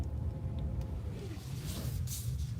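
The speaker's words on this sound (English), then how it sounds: "We are totally spinning around, doing donuts here in the car." Kia Sorento PHEV with all-wheel drive spinning donuts in mud mode on snow during a snowstorm, a steady low engine and tire rumble with a few brief bright hissing bursts near the end.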